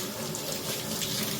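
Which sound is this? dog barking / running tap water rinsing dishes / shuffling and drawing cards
running tap water rinsing dishes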